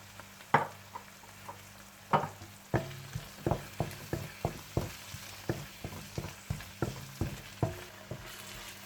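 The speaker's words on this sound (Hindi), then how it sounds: "और जब अच्छा सा मसाला तैयार हो जाए तो आप इसमें दही डालकर मिला लें।" Masala sizzles in a karahi while yogurt is stirred in, steady frying hiss broken by repeated rhythmic scraping and clacking strokes of the spoon, close and fairly quiet.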